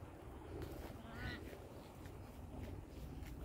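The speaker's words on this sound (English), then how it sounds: "I hear a duck." A duck calls near a lake, a few faint honking quacks rising briefly above quiet outdoor ambience, fairly distant.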